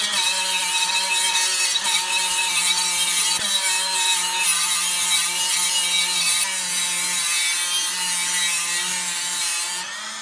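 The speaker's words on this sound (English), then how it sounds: "We're going to use sandpaper on this." Sandpaper rubbing steadily against the curb-rashed edge of an aluminum wheel, a continuous bright abrasive scratching with constant strokes held close and loud for about ten seconds, with no talking.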